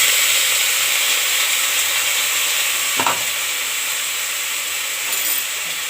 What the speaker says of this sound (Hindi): प्याज के फ्राई कर दियो